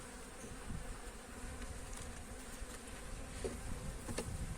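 Local Muğla honeybees at a hive, a faint, continuous droning buzz of many bees close by, with no voices.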